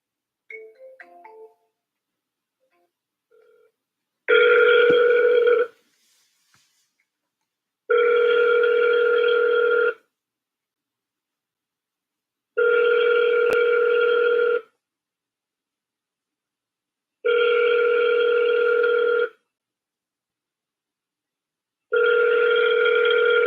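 Outgoing phone call ringing on the line during a cold call, with five evenly spaced ring bursts of about two seconds each separated by silence, clear and steady with no talking.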